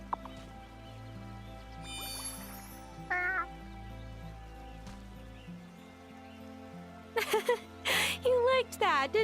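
A cat in the video game Wylde Flowers gives several close, clear meows in quick succession near the end, over a quiet game background with soft music tones.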